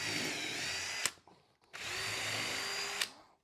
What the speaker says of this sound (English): And then I'm just gonna drill a pilot hole, the countersink